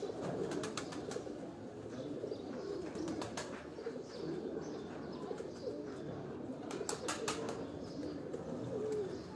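Sialkoti pigeons coo softly and repeatedly at a loft in Rawalpindi, with occasional sharp clicks and wing sounds over a faint background.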